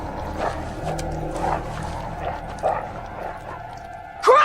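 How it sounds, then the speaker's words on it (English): A dog yelps and whimpers in a horror movie scene, with short cries scattered across a busy, noisy soundtrack and a sharper, louder yelp near the end. "What are you doing to my dog?"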